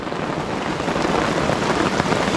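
Heavy rain pours steadily onto a tent during a gold prospecting camp in New Hampshire, a dense, continuous loud patter close overhead with no break across the clip.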